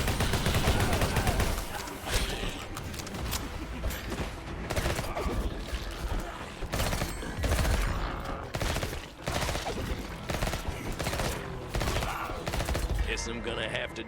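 Minigun roars through sustained bursts in a bullet-heaven first-person shooter video game, dense rapid-fire chatter layered with explosions and game effects, loud and continuous with brief pauses, someone talking over it at times.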